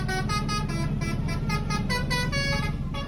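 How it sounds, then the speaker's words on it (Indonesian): A bus's basuri telolet horn plays a melodic tune of repeated bright honking notes in a town square, loud and sustained over crowd and traffic noise. "ini alun-alun penuh dengan suara telolet basuri ya"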